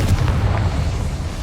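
A single deep, rumbling blast from the Confringo fire spell in the Hogwarts Legacy video game, booming close and loud, then fading out.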